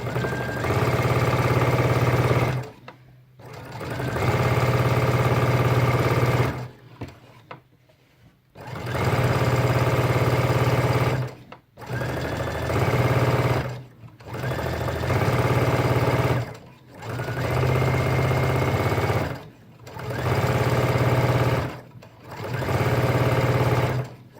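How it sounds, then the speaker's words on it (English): Sewing machine stitching in the ditch along a basted ruffle, a loud close mechanical whir running in repeated bursts of several seconds separated by brief pauses, no voices. "I'm stitching in the ditch of where I basted the ruffle on."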